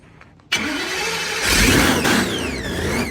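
A 4000hp blown Hemi in a Buick Grand National fires up abruptly after a quiet lead-in, going straight into a loud, sustained, raw roar that swells briefly and keeps rumbling at close range.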